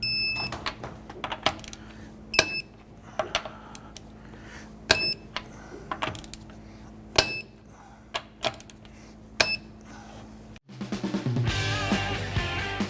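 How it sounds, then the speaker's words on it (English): A torque wrench tightens lug nuts on a 2009-2015 Honda Pilot: a series of sharp metallic clicks spaced a second or so apart over a quiet garage hum, followed by a burst of louder noise at the end. "Let's go ahead and torque our lug nuts down to 95 foot-pounds."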